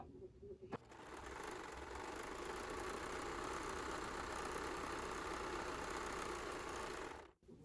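A serger runs steadily, stitching fabric fed under the presser foot, a continuous loud mechanical whir lasting several seconds before stopping abruptly near the end.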